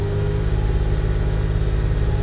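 Old Porsche engine held at about 2,000 rpm, a loud close-up steady rumble with strong low harmonics and a slight rising rev, no speech.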